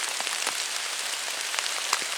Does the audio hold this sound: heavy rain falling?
yes